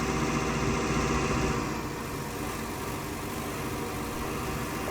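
A small tractor engine in a farming game, drawing a heavy load with silage wheels: a steady, loud droning hum that eases slightly in pitch and level partway through, with no talking.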